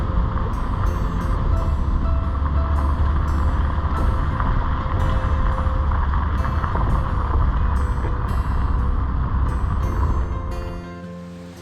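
A car drives through a forest on a narrow, hilly dirt road in the Gandhamardan Hills, a loud, steady engine and road rumble with a rattling, wind-buffeted rush that runs on and then fades out at the end.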